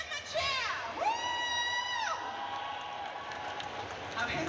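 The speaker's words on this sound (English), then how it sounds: "Give them a cheer." An audience at a fantasy fan convention in London cheers and whoops for stage contestants, a loud burst from a crowd in a large hall, with an amplified voice over it before fading into murmur.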